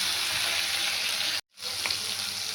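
Steady, bright sizzling of tomato and ginger frying in a pan for Bengali potato and bitter gourd curry, close up, broken by a brief moment of silence before the hiss resumes.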